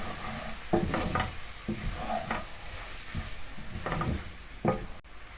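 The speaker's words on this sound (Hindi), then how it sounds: "लहसुन अदरक शामिल करके इसको अच्छी तरह से भूनेंगे" Garlic and ginger paste fry in a karahi for prawn karahi, with a constant soft sizzle broken by several sharp stirring scrapes and knocks, no talk.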